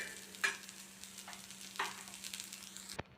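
Red chilli chutney ingredients being fried and moved about in a pan, with a faint sizzle under a few sharp scrapes and taps of the spatula and a steady low hum in the background.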